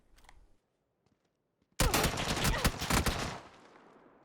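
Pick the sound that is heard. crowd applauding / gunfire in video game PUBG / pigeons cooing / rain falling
gunfire in video game PUBG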